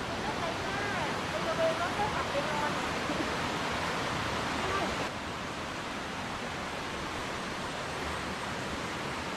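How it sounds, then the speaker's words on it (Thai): Steady broadband rushing of the Chaloem Phra Kiat Rama 9 waterfall in Betong, continuous and fairly close, dropping slightly in level partway through, with no clear talk over it. "น้ำตก"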